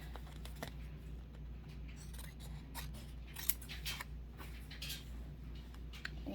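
Scissors snip steadily through an iron-on patch for repairing a hole in a jacket pocket, a run of close, crisp cuts over a low constant hum.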